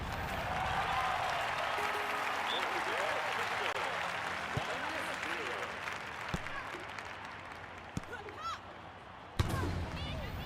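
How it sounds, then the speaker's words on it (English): A crowd at a volleyball match cheers and applauds after a point, a steady dense roar of clapping and shouting with a few sharp thumps, while a commentator talks over it. "The crowd go wild and they respond."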